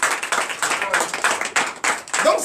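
A church congregation claps in rhythmic bursts during a night deliverance and prophecy service, fairly loud and close, with voices mixed in underneath.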